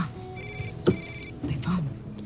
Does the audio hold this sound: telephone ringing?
yes